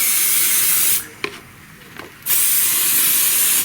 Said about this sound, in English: So I want to spray the whole thing, so I'm just spraying down in that.